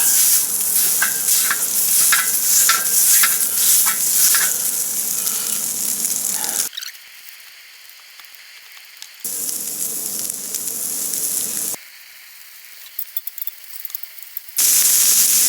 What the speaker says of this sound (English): And get that sausage thrown down. This is an Italian sausage.